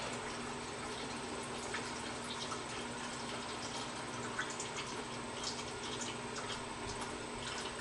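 Engine oil drains steadily from the underside of a Vector W8 supercar, a faint continuous liquid pour with a trickling wash and low hum, no talking.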